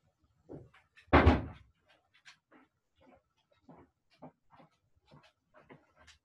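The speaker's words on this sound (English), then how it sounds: "I take the dog barking at me" A single loud bark close by, followed by quieter scattered household noises and soft movements.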